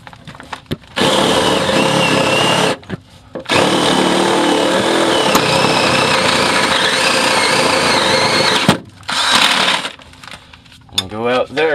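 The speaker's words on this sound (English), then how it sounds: "Go ahead and drill where I was talking about here." A power drill bores through wall boards during plumbing work, running loud and steady in two long bursts separated by a short pause, with brief stops and clatter toward the end.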